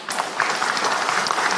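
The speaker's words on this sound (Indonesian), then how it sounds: "Jadi tepuk tangan untuk Pak Deputi" A meeting audience on rice planting applauds a government Deputy, a short, lively burst of many hands clapping close by that starts abruptly and keeps an even level.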